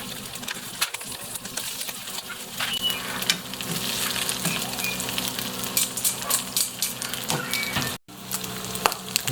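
Pork belly frying in a hot, nearly oil-free non-stick pan for adobo, with a steady close sizzle and crackle scattered with small pops and a few utensil clicks.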